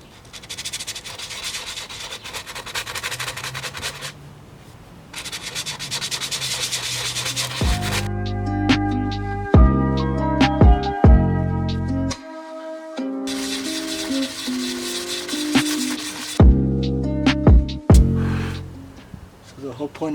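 Coarse 80-grit sanding block scrubbing an aluminum frame on a Buell Lightning XB12S motorcycle, loud rasping strokes in bursts with short pauses and a few knocks between passes.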